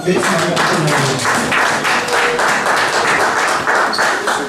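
A church congregation claps together in a dense, sustained round of applause, loud and close, filling the whole moment without pause.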